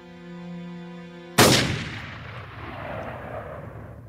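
A single loud rifle shot cracks sharply after a steady tonal hum, then fades into a long rumbling echo.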